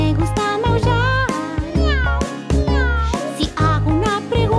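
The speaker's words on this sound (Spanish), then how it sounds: "Yo soy el gato. Me gusta maullar." A cat meows loudly in several repeated calls over steady low music, the calls rising and bending in pitch.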